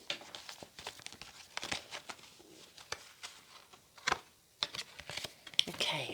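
Tarot cards from an old deck being shuffled and drawn by hand, giving rapid papery flicks, taps and crinkles in an irregular rhythm, with faint talk in the background.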